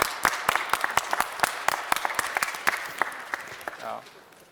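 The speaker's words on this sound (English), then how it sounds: "Please welcome with a big round of applause, Morton Lacretz." An audience at a city council meeting claps for a library presentation, a modest scattering of distinct hand claps, fairly close, fading out after about four seconds.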